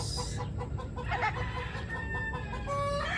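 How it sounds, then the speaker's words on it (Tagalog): Backyard chickens and loose chicks behind a small hut in a modest poultry yard cluck and call steadily at close range, with overlapping bursts and a few higher drawn-out notes. "Meron tayong mga sisiw dito na pinakawalan."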